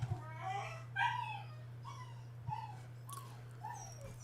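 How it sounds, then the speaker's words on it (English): Several dogs yelp, whimper and bark in a series of short, high, whining calls, fairly close, over a steady low electrical hum, with no talking. "I wish someone would come quiet those dogs down."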